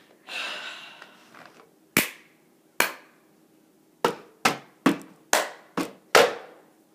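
Cup song rhythm played close by, with sharp claps and the knocks of cups tapped on a table in a quick pattern of about nine distinct hits after a short rustle at the start.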